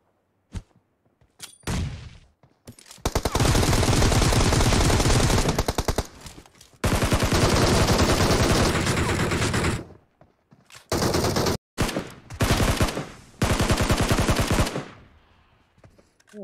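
Automatic gunfire in a battle royale shooter, with rounds striking a railing: long loud sustained bursts of rapid fire broken by short gaps and a few separate shots, close and dominant.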